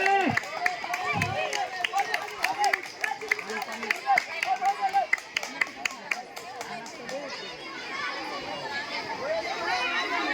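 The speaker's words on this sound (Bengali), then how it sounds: "জোরে হাততালি হবে" Crowd of children at a school sports final, the cock fight event, clapping in scattered bursts amid lively chatter, running and shouting, with a voice urging over the noise.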